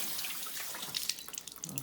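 Tap water runs over matzahs being washed to soften them in a sink, a steady close splashing stream with irregular drips and patters, no voices.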